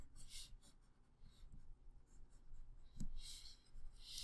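A pencil drawing on paper makes close, faint scratchy strokes in short bursts with brief pauses between them, and a few quick hisses of sketching.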